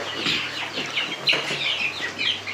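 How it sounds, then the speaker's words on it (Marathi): Several hens cluck in short, overlapping bursts close by among their chicks on a farm, a busy irregular chatter with no voices. "कोंबड्या पण बसवलेली आहे आणि सगळी पिल्लं इथे सोडलेली आहेत"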